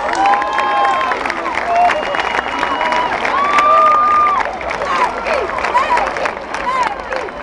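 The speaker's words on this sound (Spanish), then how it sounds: "El aplauso para ustedes." Festival crowd at a late-night carnavalito folk concert applauds and cheers loudly and steadily, with whistles and shouts rising over the clapping throughout.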